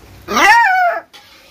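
A dog lets out one close, loud, high-pitched whining yelp that bends upward and then falls, followed by a faint short sound after a brief pause.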